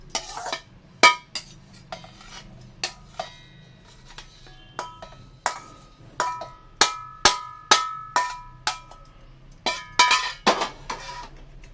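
Roasted coconut pieces drop into a steel mixer jar as a run of sharp metallic clinks and taps, irregular at first and then quicker, close and fairly loud with no voices.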